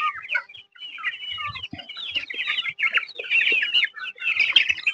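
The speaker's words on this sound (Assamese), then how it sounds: "এইখিনি গোটেইখিনি কুকুৰা বাহিৰে ভিতৰে চব মিক্স হৈ আছে" Chickens on a poultry farm with local ducks clucking and chattering repeatedly at close range, a busy flock of overlapping calls with no talking.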